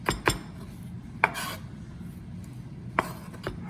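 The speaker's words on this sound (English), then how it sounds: "Just get that knife sharp." Kitchen knife being sharpened while cooking beef chimichangas, giving a few sharp scraping rasps and clinks spaced irregularly over a low background hum, close and moderately loud, with no talking.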